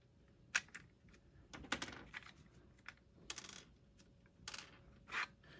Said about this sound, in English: I am just going to take my little punch here, push out these pins